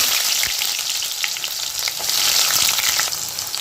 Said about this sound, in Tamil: இப்போ இதில் நம்ம வெங்காயத்தை சேர்த்துக்கலாம்